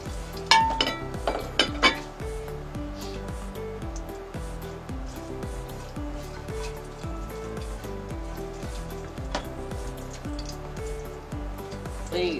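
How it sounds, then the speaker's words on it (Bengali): Whole garam masala spices (cardamom, cinnamon, cloves, shahi jeera) fry in a pan for biryani, giving a steady soft sizzle and crackle with repeated clinks of a metal spoon against the pan, loudest and busiest at the start. "এই গরম মশলাগুলো তো ভাজা হয়ে গেছে।"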